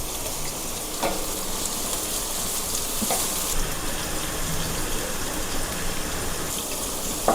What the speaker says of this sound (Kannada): ಚೆನ್ನಾಗಿ ಫ್ರೈ ಮಾಡ್ಕೊಳ್ಳೋಣ. ಇದ್ರ ಜೊತೆಗೆ ಚೂರು ಚಕ್ಕೆ ಮತ್ತು 4 ಲವಂಗ ಹಾಕ್ಕೊತಾ ಇದ್ದೀನಿ.